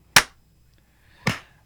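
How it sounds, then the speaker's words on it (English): Two sharp, loud hand claps about a second apart, each a single crisp impact with a short decay, standing alone in near silence with no talking. "So let's do the clap."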